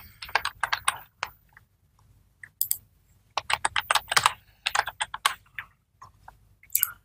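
Someone types a password on a computer keyboard in bursts of quick clicking keystrokes separated by short pauses, close and clear over a faint low hum.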